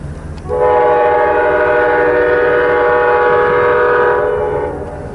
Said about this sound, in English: Here it is, the eastbound California Zephyr.